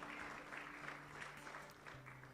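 A church congregation applauds, with dense steady clapping filling the space throughout and sustained held tones sounding underneath.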